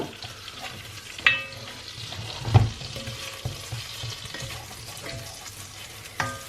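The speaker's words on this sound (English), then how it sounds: "you let the butter and the sugar melt together a bit" Butter and caster sugar melting together in a pan on the hob, giving a steady soft sizzle with occasional stirring scrapes and clinks, fairly quiet and close.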